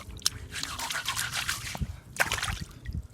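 A freshly caught fish is rubbed and scrubbed in wet beach sand, making close, gritty crunching and squelching strokes in uneven bursts with a few sharp clicks.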